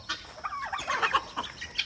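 A rooster on a small farm in Ghana gives a short series of close, fairly quiet clucks and chattering calls, alone without speech.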